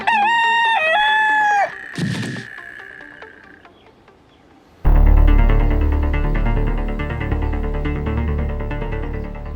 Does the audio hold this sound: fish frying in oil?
no